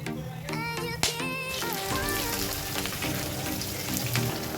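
Whole spices, bay leaves, cinnamon, cardamom, cloves and cumin, hit hot oil with a loud, dense crackling sizzle that runs continuously, with a sharp spattering burst near the start.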